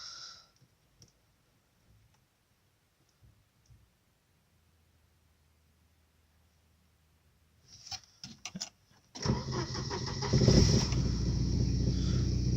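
A Volvo 940 Turbo sits quiet through a cold start, with only scattered mechanical clicks at first. Then come a few stuttering bursts, and the engine catches into a loud, rough, continuous idle close by.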